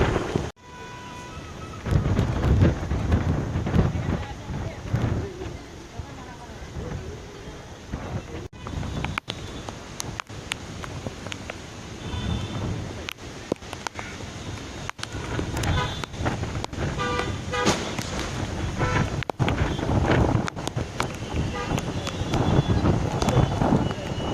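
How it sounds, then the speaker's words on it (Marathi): Strong monsoon wind on the seafront at Marine Drive in Mumbai buffets the microphone in loud, gusty roaring bursts with sharp crackles throughout, while someone talks intermittently beneath it. "वारा आहे ना जोरात, खूप जोरात आहे."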